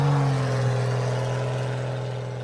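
A lightweight Jeep Cherokee runs off-road with its engine humming steadily at a mid pitch, and the drone eases slightly in loudness as it continues, close and with no talk.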